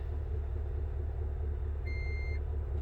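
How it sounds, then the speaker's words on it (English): A 2021 Chevrolet Suburban High Country gives one short, clear electronic beep confirming the programmed power liftgate height, heard over the low steady hum of the idling engine. "that beep lets you know that now the height of the lift gate is programmed"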